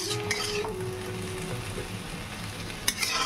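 Water spinach stir-fries in a hot pan with a steady, loud sizzle and a few light scrapes of a utensil near the end. No one speaks.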